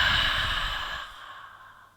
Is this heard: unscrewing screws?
no